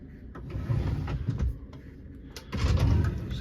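A wardrobe drawer in an MSC Divina Yacht Club Deluxe Suite on a cruise ship slides open with a couple of close, soft scraping and rolling runs, separated by a quieter pause.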